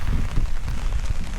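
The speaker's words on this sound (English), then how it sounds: "I don't think there's anything more appropriate than pouring down rain than that word today" Heavy rain pours down outdoors as a dense, steady hiss with a low rumble beneath, unbroken throughout.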